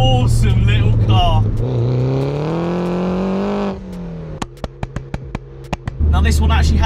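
A 300 BHP R56 Mini John Cooper Works revs its exhaust in a rising, droning engine note, then drops to quieter popping and crackling bursts before a deep idle returns. Someone talks over parts of it.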